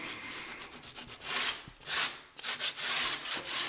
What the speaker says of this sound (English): Rub that corner down